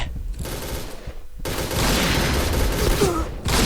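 Point Blank shooter gameplay with sniper fire: loud, close bursts of gunshots with brief pauses between volleys, fairly continuous action over a short span.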